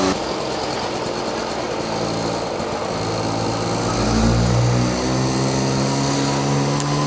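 A 1980 Honda Express vintage two-stroke moped is being ridden, its small engine buzzing steadily and close, with the pitch climbing and settling as it accelerates midway, and no talking.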